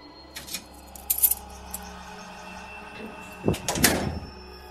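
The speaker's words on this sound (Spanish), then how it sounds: "Al empujarla, la puerta rechinó produciendo un gran escándalo." An old, hidden wooden door is pushed open with a loud creak, marked by clattering knocks and rattles before a stronger grinding burst near the end.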